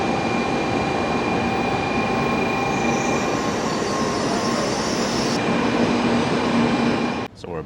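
A train rumbles through a station in Japan ahead of a Shinkansen ride to Tokyo, with a broad, steady roar, faint wheel squeal and clatter, ending in a brief sharp burst of noise.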